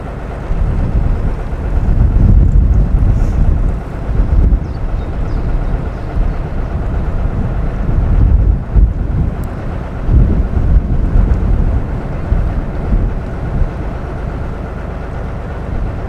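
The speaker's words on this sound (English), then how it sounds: "And now it is. There's a fair old breeze." Strong wind buffets the microphone on a canal during a narrowboat cruise, a loud, continuous low rumble that swells and eases in gusts, with no talking.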